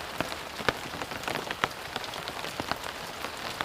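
Steady rain patters on a surface at a waterfront work site on a Saturday morning, with dense crackling drops and scattered sharper splats throughout, close and even, with no voices.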